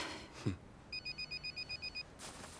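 A telephone rings with a quick run of about nine evenly spaced electronic trills, faint and set against a quiet indoor room tone, with no talking.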